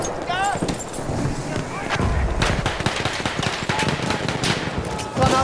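Rapid machine gun fire crackles in the trench warfare of Battlefield 1, dense and continuous amid shouted German voices and battlefield clatter, loud and close throughout.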